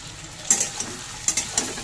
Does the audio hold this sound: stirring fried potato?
yes